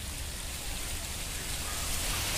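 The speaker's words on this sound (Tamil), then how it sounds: "சரியான மழை வந்துடுச்சு, காற்றோட மழை" Heavy rain with wind pours steadily over a backyard pond, a dense, loud, continuous hiss that swells slightly toward the end, with no voices.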